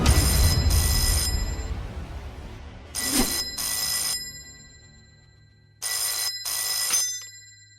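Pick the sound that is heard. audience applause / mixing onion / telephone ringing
telephone ringing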